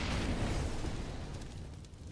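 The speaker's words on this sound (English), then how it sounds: "Initial grenades towards the plateau" A grenade explodes in the video game Counter-Strike: Global Offensive on the Cobblestone map, leaving a broad rumbling boom that fades slowly over about two seconds.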